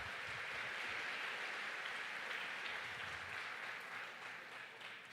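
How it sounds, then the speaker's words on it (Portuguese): Worshippers in a church clapping together, a steady wash of applause held at a constant level and heard faintly from a distance, tapering slightly toward the end. "Dá uma palmas para aquele eterno Deus poderoso."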